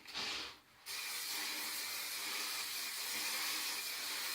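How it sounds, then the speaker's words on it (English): Hairspray hisses onto curled hair, first in a short burst that breaks off briefly, then in a long, steady spray. "I'm gonna spray it again though."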